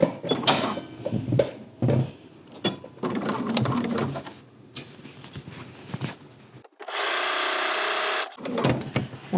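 Sewing machine stitching a dress and sleeve together at a 5/8 seam allowance, a steady loud whirring run of about a second and a half that starts and stops sharply, set between stretches of handling noise and rustling.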